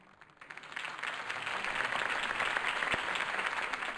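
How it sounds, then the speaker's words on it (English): A crowd's applause swells after Harvey Dent's speech in the Batman Telltale video game, rising from quiet into a steady, fairly distant wash of clapping that fills the scene. "could have heard that applause"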